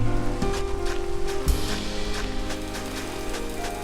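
Rain patters steadily in a Minecraft-style game world, a soft dense hiss under a low ambient hum, with tones shifting and a brief thump partway through.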